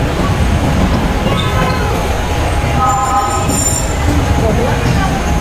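An LRT light rail train arrives at a station, rumbling loudly and steadily, with metallic wheel squeals and faint tonal whines rising over constant rail noise, close by.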